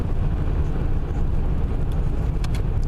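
A 1984 Pontiac 6000 engine with a rough, diesel-like clatter, heard from inside the car while driving at night: a steady low rumble and road noise that holds evenly throughout.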